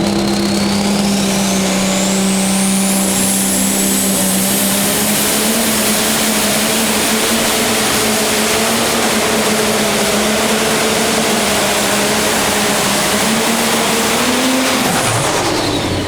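A pro stock pulling tractor at a diesel pulling event in Terre Haute roars at full power for the whole pull, a loud, strained engine drone with rising whine that holds steady and then winds down near the end.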